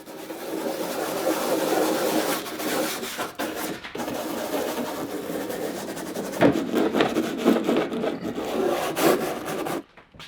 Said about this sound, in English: Be sure to scrub it with the applicating brush thoroughly.